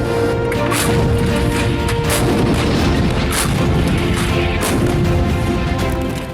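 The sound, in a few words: artillery explosions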